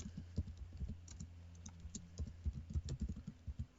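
Keystrokes on a keyboard as text is typed into a Power BI text box, a close, quiet run of irregular clicks with brief pauses and no talking.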